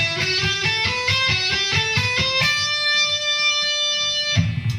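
An electric guitar plays scale position patterns in a quick run of single picked notes that steps upward. A final note rings out and sustains before a last soft attack.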